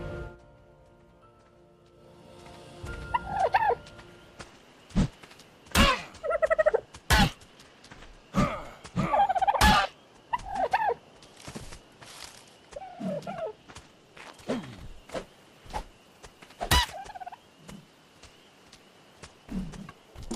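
Chicken clucking in the ARK: Survival Evolved video game, sounding as repeated short bursts of varying loudness over a faint steady background.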